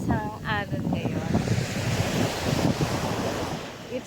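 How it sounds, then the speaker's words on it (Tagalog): Strong waves wash onto a beach in Batangas, Philippines, at high tide: a loud, continuous surf roar mixed with wind buffeting the microphone, with a brief voice at the very start. "Medyo malakas ang alon ngayon."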